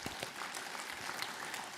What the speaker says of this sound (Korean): 우리들 공부시키느라고 너무 애쓰시는 것 같은데 박수 한번 쳐드리겠습니다.